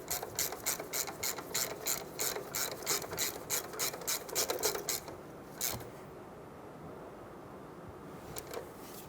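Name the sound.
tightening brake caliper bolt on Chevrolet Silverado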